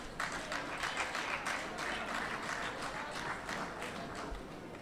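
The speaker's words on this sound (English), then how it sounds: "I'm sure that the mother's clapping" Audience applause fills a speech at a public address in Dominica: a steady wash of many hands clapping, fairly loud and continuous for several seconds without a clear break.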